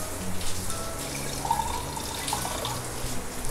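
A small amount of water poured onto a metal plate set over a cooking pan makes a steady trickling, splashing sound at close range, continuous for several seconds.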